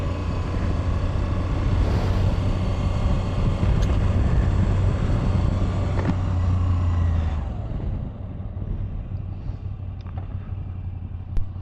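Moto Guzzi V85TT motorcycle running steadily on the road, a broad continuous engine and wind roar with a low droning hum that eases and softens toward the end.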